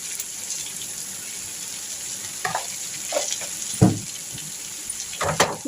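Mixed spices fry in a pan on a high gas flame, giving a continuous loud sizzle broken by a few louder scraping stirs toward the end.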